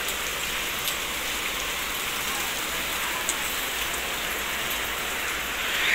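Steady rain falls on surfaces close by, a dense continuous hiss with scattered drop ticks, alone with no voices, swelling slightly at the very end.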